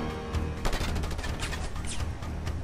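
Gunfire in the Just Cause 2 video game crackles in dense, rapid bursts of overlapping shots and booms, loud and continuous throughout.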